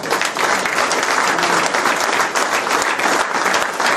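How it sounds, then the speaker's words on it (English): Sustained audience applause at a snooker tournament, dense clapping from many hands, loud and even across the whole stretch, with no voices rising above it. "Round of applause for them, please."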